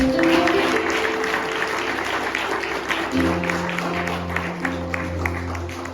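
A church congregation at a Spanish-language prayer service gives loud applause to God, the clapping continuous and fairly close, with a sustained musical tone running underneath from midway on.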